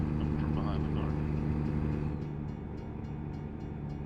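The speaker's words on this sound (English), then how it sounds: "Oh, I hear a train. Is that underneath us?" A train rumbles past in a truck driving video game, a steady low roar that swells and then eases as it goes by, heard with the road noise of the truck.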